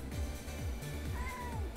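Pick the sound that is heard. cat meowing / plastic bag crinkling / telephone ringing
cat meowing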